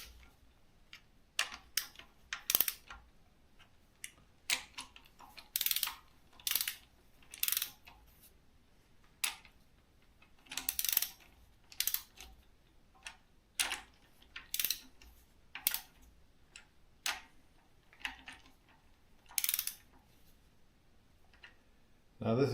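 A ratcheting torque wrench tightens bolts on a 1976 BMW 2002 engine during assembly, giving sharp repeated clicking bursts in short rhythmic runs with pauses between them, close and fairly quiet.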